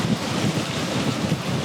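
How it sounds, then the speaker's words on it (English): Strong wind and waves strike a sailboat head on as it beats upwind, a steady loud roar of gusting wind and buffeting mic noise over rushing, slapping water, with no voices. "we are beating into the wind and the waves"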